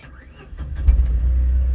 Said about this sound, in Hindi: देखो ऐसे स्टार्ट हो गई।